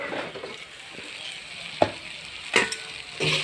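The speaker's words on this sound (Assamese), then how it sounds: "এইখিনি আৰু অকণমান লৰাই দিছোঁ।" Assamese matar ghugni, a peas curry, sizzles steadily in a pan as it is stirred, with occasional scraping clicks from the spoon over the constant frying hiss.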